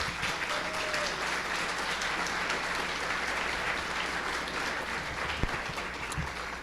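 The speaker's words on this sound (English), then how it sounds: "Why don't you give these guys a round of applause?" Audience applause for city staff members at a business appreciation event, a steady, even crowd clapping throughout at moderate distance with no talk over it.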